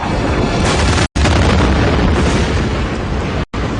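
Asteroid impact explosion sound effect in a space documentary, a loud continuous roaring blast with deep rumble, cut by two brief silent gaps, with no talk.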